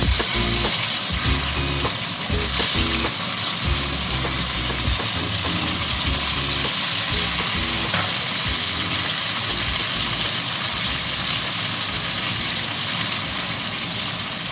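Cut taro pieces with dried red chilli fry in hot oil, a dense continuous sizzle and crackle with some stirring clatter, steady and close, with no voices.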